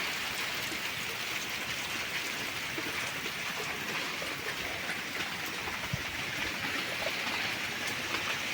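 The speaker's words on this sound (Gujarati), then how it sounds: "વરસાદ આવી ગયો ખેતરમાં પાણી નીકળી જાય એટલો" Steady, dense rain hissing outdoors over a farm field for the whole stretch, an even wash of patter with no voices over it.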